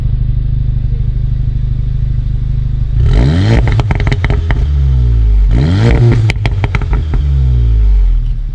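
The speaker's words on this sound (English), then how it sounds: "let me play the Krapovic exhaust sound that I heard on Monday for you now" A Golf R's loud Akrapovic exhaust revs hard twice, each burst crackling and popping sharply over a deep rumbling idle.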